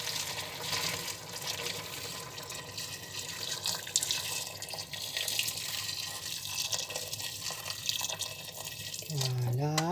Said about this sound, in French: Après un peu de cuisson, je rajoute mon eau.